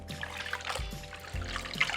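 Indigo-dyed cloth is dipped into water, with splashy trickling and dribbling and soft low sloshes at a close, moderate level, and no speech.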